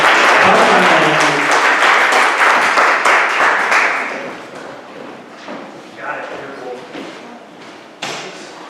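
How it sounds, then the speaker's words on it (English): Loud audience applause breaks out to welcome a guest onto the stage at a community gathering, a dense wash of clapping that fades after about four seconds into a few scattered claps and thumps. "why don't we welcome Marla with some applause as she comes"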